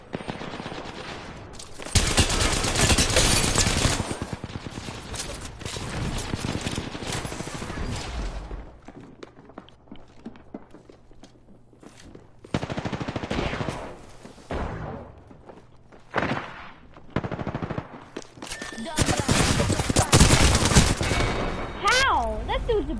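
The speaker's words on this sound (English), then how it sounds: "Listen up, I'm getting shot at." Apex Legends gunfire in long, loud bursts of automatic shooting with quieter gaps in between, a player speaking over parts of it, and footsteps and movement audible during the lulls.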